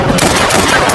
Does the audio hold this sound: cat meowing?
no